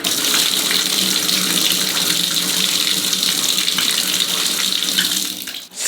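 Water pours steadily onto a grocery store phone, a loud continuous splashing rush like a running tap that holds for several seconds and cuts off abruptly at the end.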